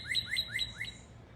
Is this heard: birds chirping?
yes